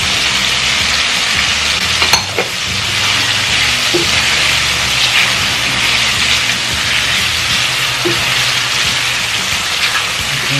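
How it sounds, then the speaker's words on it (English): Shrimp frying in a pan as a step in cooking penne arrabbiata, giving a steady, dense sizzle that holds loud and even throughout with no talking. "I love putting seafood on pasta, so I'll be putting in some shrimp."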